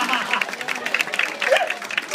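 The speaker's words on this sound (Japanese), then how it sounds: "大きな拍手です。" A crowd gives a round of applause, a rapid clatter of clapping that stays fairly even throughout, with voices mixed in underneath.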